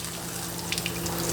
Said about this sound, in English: I have the hot water going.